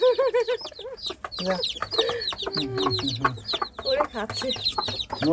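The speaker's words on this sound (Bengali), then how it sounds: "দাঁড়াও এবার মুরগটা ধরো আমি মুরগ ধরতে পারবো না" Chickens cluck and squawk close by in a busy burst of calls, with a rooster among them and a voice speaking intermittently over the fowl noise.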